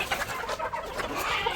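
Chickens and roosters kept on a farm, clucking and chattering close by in a steady busy flock with no speech over them.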